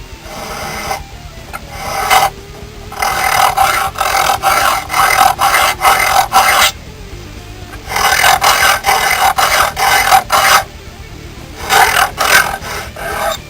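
A rasp file shapes a custom wooden knife handle in repeated rhythmic bursts of rough scraping strokes, several groups separated by brief pauses, close and loud.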